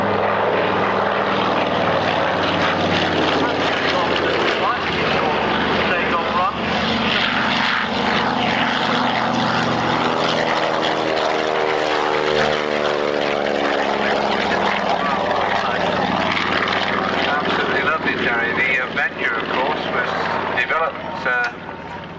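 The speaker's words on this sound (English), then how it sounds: "we'll just let you watch the Tony Haig Thomas desperately chasing the airborne Catalina down the runway." A propeller aircraft roars loudly and steadily at an airshow as it chases an airborne Catalina flying boat down the runway, the engine drone continuous throughout.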